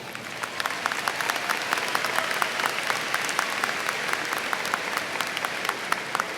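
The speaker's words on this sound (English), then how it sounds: "can we give them a round of applause?" Graduation audience clapping for the school band, a crisp spread of individual claps with distinct hand strikes audible across a moderately sized crowd, steady throughout.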